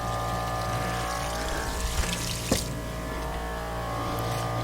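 Water loaded with loose lime deposits drains steadily from a water heater being flushed with vinegar, a continuous rushing flow with a low hum and one brief splash or knock partway through.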